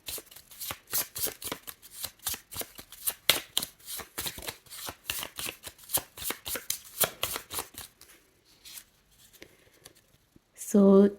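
Astrology cards are shuffled by hand in quick rhythmic riffles, close and crisp, for about eight seconds before the shuffling slows and stops with a brief louder sound at the end.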